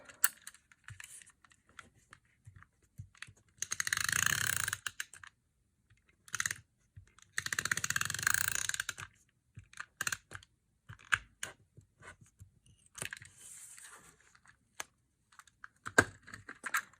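Sticky tape is ripped from the roll and pressed onto paper while a mountain piece of papercraft art is put in place: two longer tearing bursts, then scattered short crackles and taps, close and fairly quiet, with no talking.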